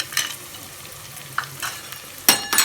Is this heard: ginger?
yes